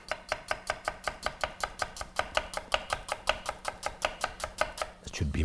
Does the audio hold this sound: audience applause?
no